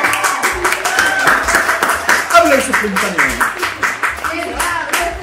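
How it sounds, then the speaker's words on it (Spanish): A few people clap steadily in a small room during a casual podcast, rhythmic close handclaps layered under lively overlapping talk and laughter. "¡Un aplauso!"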